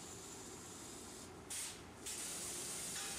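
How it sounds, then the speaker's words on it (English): Z-Bart rust proofing is sprayed onto critical areas of car bodies at an AMC factory around 1981. It is a continuous, loud, broad spray hiss that briefly changes in intensity, heard alone. "factory Z-Bart rust proofing is sprayed in critical areas as still further protection against possible rust"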